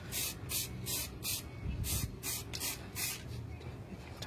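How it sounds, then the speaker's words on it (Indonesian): Spray paint hisses onto the wheel rim of a Honda ADV 150 motorcycle in short, rhythmic bursts, about eight close, even sprays separated by brief pauses. "Jadi ini biar dia lengket ya, jadi disemprot dikit-dikit dulu"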